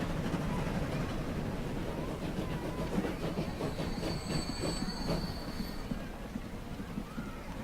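A railroad train in the video game Transport Fever, on a Western line, rumbles steadily and close throughout, with wheels clattering over the track and a thin high squeal of wheels rising partway through.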